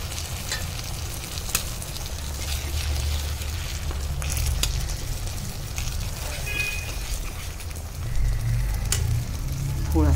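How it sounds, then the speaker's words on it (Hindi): Gravy poured over paneer on a hot tawa, hissing in a steady, fairly loud sizzle with soft stirring scrapes, the frying swelling slightly near the end. "इसमें डालेंगे हम इस ग्रेवी को"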